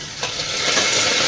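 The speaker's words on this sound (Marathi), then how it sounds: "कढीपत्ता टाका." Curry leaves hitting hot oil with mustard seeds, cumin and garlic in a pan, a sudden loud sizzle that rises into a sustained hiss over a second or so, close up.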